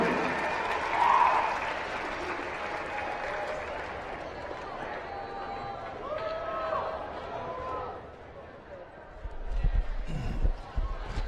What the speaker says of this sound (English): Please give one more round of applause for our senior drill team members as well as themselves.